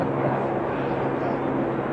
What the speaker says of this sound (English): we've just got a helicopter overhead.